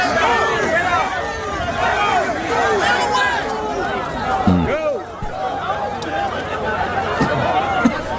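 A panicked crowd mills about after the shooting at a Trump rally, a dense babble of many voices, shouts and movement continuing throughout, with a few sharper bumps near the middle.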